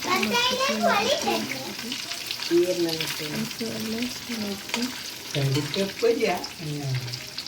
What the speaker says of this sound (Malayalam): നല്ല രീതിയിൽ ബ്രൗൺ നിറമാവുന്നത് വരെ ഒന്ന് ഫ്രൈ ചെയ്തെടുക്കാം